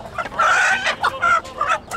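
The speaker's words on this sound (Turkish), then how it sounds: "Brahma tavuk." Brahma crossbreed chickens at an Antalya poultry market give a run of close, loud clucks and squawks in short bursts, one after another, with no talk over them.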